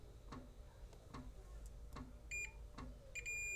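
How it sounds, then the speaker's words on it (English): Continuity beeps from a multimeter while probing the pins and shield of an XLR cable: short high tones come in brief bursts near the end, over faint periodic ticking. "I should get it a beep, continuity beep whenever I touch 1 over here"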